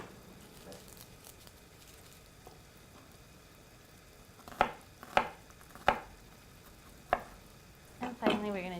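Knife chopping garlic on a cutting board in a home kitchen during stir-fry prep, five or six sharp separate taps over a faint sizzling background, close and fairly quiet.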